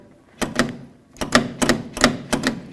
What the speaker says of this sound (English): push on this, pull on the outer handle.